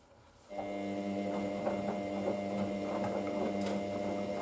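A Hoover DYN9144D3X washing machine hums steadily with a motor whine as it tries to spin on a coloured-fabrics final rinse cycle. The machine kicks in abruptly and holds a constant, close mechanical drone.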